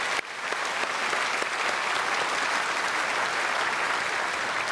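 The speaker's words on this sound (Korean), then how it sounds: "참 박수로 축복하겠습니다." A church congregation applauds a choir ensemble during Sunday worship, a dense, sustained roar of many hands clapping that starts abruptly and stays loud and even to the end.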